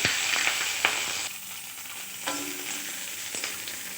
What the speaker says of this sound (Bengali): রসুন লঙ্কাটা একটু ভালোভাবে ভাজা ভাজা হবে